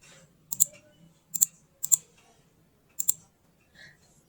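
A few sharp key clicks from a computer keyboard as an access list command is typed into a router, arriving in small spaced bursts of two or three strokes, close and clear over a quiet room.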